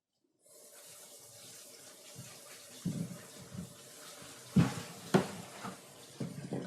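Tap water runs close by at a steady level while a turnip is washed under it. Splashes and brief clunks sound as the root is handled in the sink. No one speaks.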